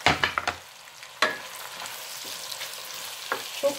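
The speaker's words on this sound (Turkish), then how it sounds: "arkasından da soğanı, sarımsağımı da atıyorum" Onion and garlic go into a hot pan for a zucchini dish and hit the oil with a quick flurry of crackles. A loud sizzle follows, and then a lighter steady frying hiss with a few scattered pops.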